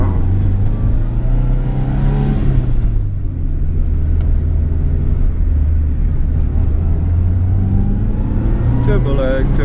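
A 1995 Subaru Impreza WRX STI engine pulls hard under acceleration, a loud continuous rumbling drone with a pitch rising and falling as it revs, heard from inside the car.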